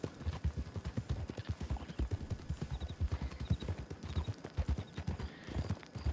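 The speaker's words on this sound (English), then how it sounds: "That is a very beautiful horse that you stole." A single horse's hooves clip-clop in a steady, even rhythm of close, moderately loud clops that keeps on throughout, with no voices.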